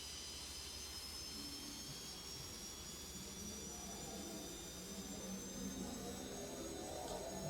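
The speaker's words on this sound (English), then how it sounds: "I might just power it up first, just get those engines revving, because it is a very hot day in the Alice." Ansett Boeing 727 jet engines spooling up at Alice Springs in Microsoft Flight Simulator 2024, a steady, continuous whine and roar with a faint high tone, holding level and gently building.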